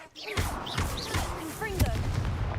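A Leviosa levitation spell cast in Hogwarts Legacy, a whooshing magical burst with rising tonal chimes and thuds amid combat noise, while a voice speaks over it.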